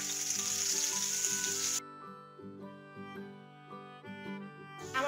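Onion and green chili hit hot soybean oil in a wok for a plantain bharta, a loud bright sizzle for under two seconds before music takes over, with the hiss returning briefly at the end.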